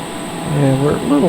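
Steady, loud turboprop drone fills the cockpit of a TBM 930 in flight on approach to runway 28 right at SFO, a constant hum with a thin high whine, while a pilot talks over it.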